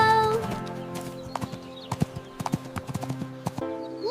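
Cartoon horse hooves clip-clop at a steady trot on a farm, crisp and close, with a musical background and a brief whinny-like tone near the start.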